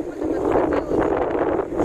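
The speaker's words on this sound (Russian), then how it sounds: "Мы залезли в самое ветреное место," Strong wind buffets the microphone beside the Neva river in Saint Petersburg, a steady, loud roar with gusty swells across the whole moment and no clear talk over it.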